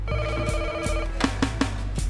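Telephone ringing in the Grauen no Torikago video game, a sustained electronic ring tone followed by three short repeated bursts, clear and moderately loud over a low hum.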